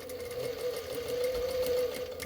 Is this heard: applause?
no